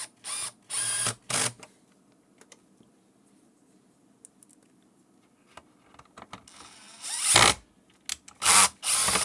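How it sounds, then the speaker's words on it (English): A power screwdriver with its clutch set low drives screws into an HME Wireless IQ headset base. Short bursts of motor whir come in clusters with quiet handling gaps between them. "You don't put the screwdriver clutch setting more than 3 or 4, because you will strip the screws"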